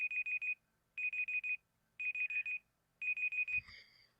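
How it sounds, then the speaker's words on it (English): A Google timer alarm going off, four quick bursts of bright electronic beeps repeated in four evenly spaced groups, clear and alone, with a soft thump at the end. "timer for, let's say, 10 seconds so you guys can see how this works"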